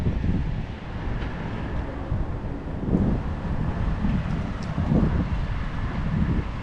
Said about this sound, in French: Je vais rentrer au métro.